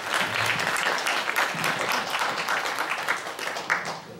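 Audience applause at a riverside rally for farmers hurt by the Four Rivers project, a dense steady clapping from a crowd that holds for several seconds without letting up.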